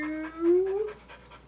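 An English Springer Spaniel pants close by in quick, rhythmic breaths, with a brief whining tone at the start.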